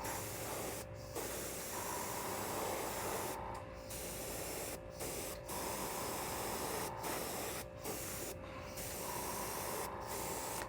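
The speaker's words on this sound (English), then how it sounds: "So now we're going to be spraying and trying to maintain some of that blue color" An airbrush sprays paint onto a Battletech King Crab miniature in short hissing bursts, each a few seconds long and separated by brief pauses as the trigger releases, close and steady with a faint mechanical hum beneath.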